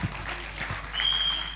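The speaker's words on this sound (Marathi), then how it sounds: "हसा हसा हसा, टाळ्या वाजवा टाळ्या." An audience at a stage cultural program breaks into a short burst of steady applause, a dense wash of clapping heard clearly throughout.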